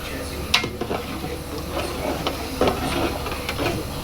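A spoon scrapes and knocks against a cooking pot as chicken biryani meat is stirred, with soft hissing steam underneath and a few sharp clinks spaced through, close and moderately loud.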